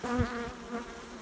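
Honeybees buzz at a log hive, a close, steady drone with wavering pitch lasting the whole short moment.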